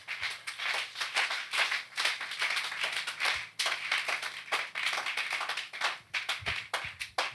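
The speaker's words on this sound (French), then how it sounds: "J'aimerais qu'on acclame le Saint-Esprit ce matin." A church congregation claps in acclamation of the Holy Spirit during a morning service, with fast, dense rhythmic hand claps that hold steady and loud throughout, without speech over them.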